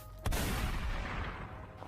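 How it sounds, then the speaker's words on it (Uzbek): A single loud gunshot used as a sound effect in an Uzbek audiobook cracks sharply after a brief quiet moment, then fades through a long, echoing rumble with no voices. "O'q ovozi eshitildi."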